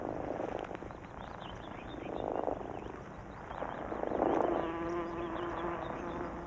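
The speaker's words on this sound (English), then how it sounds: "Some brisk wing fanning helps keep the nest at a comfortable temperature." Wasps at their nest buzz as they fan their wings, a brisk, continuous whirring hum that swells and fades in close, loud bursts with no voices.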